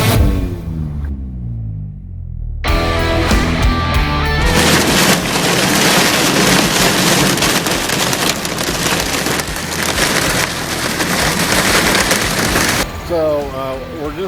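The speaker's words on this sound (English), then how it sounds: "Rain and all, Hot Rod Power Tour, day one." Heavy rain pelts a hot rod on a wet highway drive north of Jacksonville, a steady loud wash of drumming and spray filling most of the stretch, with a brief quieter moment near the start.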